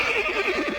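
Horse in the Mount and Blade video game lets out a single whinny, loud and near, with a wavering, shaky pitch that lasts under a second and has no speech over it.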